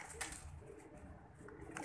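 Soft pigeon coos sound close by, low and murmuring, with a few faint rustles over quiet background noise.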